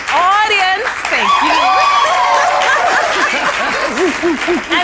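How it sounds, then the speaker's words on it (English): A studio audience on a game show claps for the judges while a host talks loudly over it, with scattered laughter mixed into the steady applause. "Please clap for them."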